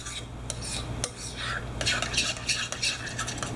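A spoon stirs lemon juice and a teaspoon of turmeric in a bowl, giving soft clinks and scraping taps of metal on the dish over a low background hum.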